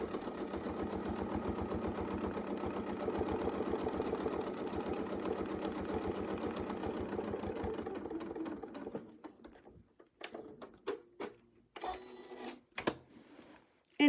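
A sewing machine quilting with a Westalee circles ruler runs in a fast, steady stitching burst for about nine seconds, then stops, leaving a few quiet clicks and handling sounds.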